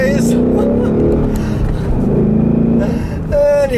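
A car accelerates hard, sliding sideways, with a loud, close engine roar whose pitch rises as the revs build, then jumps higher near the end; a voice talks over it.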